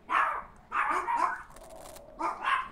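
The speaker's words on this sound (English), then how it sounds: "Dog, shut up." A dog barks in rapid clusters of sharp, fairly close barks, three bursts separated by brief pauses, with no one talking.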